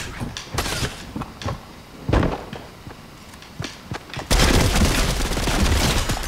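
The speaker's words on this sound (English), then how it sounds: "Or are they firing at each other?" Sniper-battle gunfire in a video game, sharp scattered shots cracking at irregular intervals before a dense burst of sustained firing fills the final two seconds, loud and without talk.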